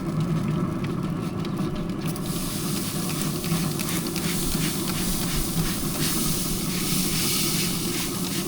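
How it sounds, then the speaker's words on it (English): A spray bottle spritzing baby back ribs on a Pit Boss pellet grill, a continuous close hiss with a sharper burst of spray after a couple of seconds over the rumble of the smoker. "Give them a quick spritz."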